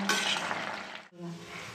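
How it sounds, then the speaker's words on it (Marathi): A spoon stirring a simmering pot of traditional bhogichi bhaji, a mixed vegetable curry, with a close, wet scraping and gentle sizzle, a brief pause, then more stirring. "ढवळून बघूया आणि थोडंसं पाणी आटवून घेऊया."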